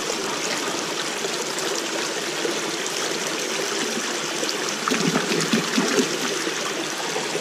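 A city creek flowing over rocks, with continuous rushing and trickling water that is loud and close and swells slightly toward the end, with no speech.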